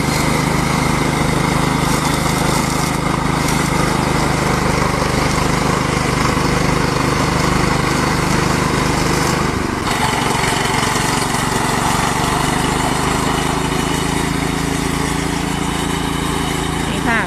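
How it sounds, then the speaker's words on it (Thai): A riding lawn mower cuts grass in a rubber plantation, its engine droning loud and steady throughout with a brief dip in pitch midway, close to the listener and with no talk over it. "คลิปนี้ก็จะมาตัดหญ้าส่วนยางอีกแล้วนะคะ อันนี้ก็ ใช้รถตัดค่ะ"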